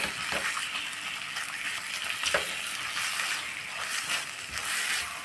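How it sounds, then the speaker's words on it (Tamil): A ginger pickle mixture sautés in a pan on the stove with a steady sizzle, broken by repeated scraping stir strokes, close and moderately loud, with no talking. "இப்போ நல்லா வதக்கிக்கலாம்"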